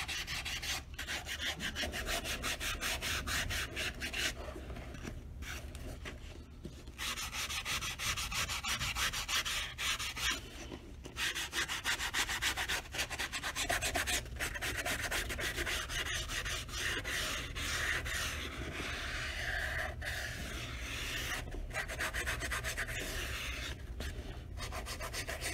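Leather sole edges on a pair of cowboy boots being rubbed down during a full sole restoration, a long run of steady, close abrasive strokes with brief pauses in between.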